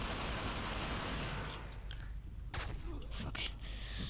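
Gunfire in the shooter game Ghost Recon Phantoms, a dense continuous rattle of automatic shots with a few sharper bursts near the end, loud and steady throughout.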